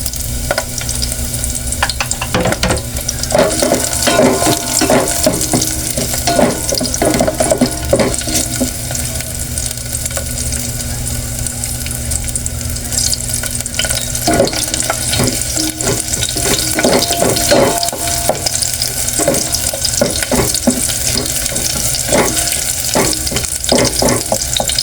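Onion and garlic sautéing in hot oil, a loud, steady sizzle with continuous stirring and scraping of a utensil against the pan throughout, close up and without talk.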